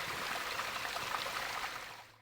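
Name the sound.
Te Wairere waterfall reduced to a trickle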